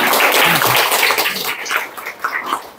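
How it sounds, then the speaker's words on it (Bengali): An audience claps for the host Janardan at an environmental community event, a loud burst of applause that thins out into scattered claps over a couple of seconds. "জনার্দন হাততালি।"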